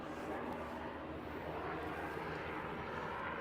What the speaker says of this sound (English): Helicopter, not an airplane.